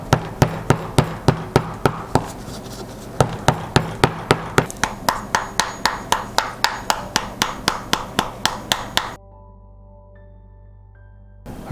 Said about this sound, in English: it's been a little over an hour of just using the hammer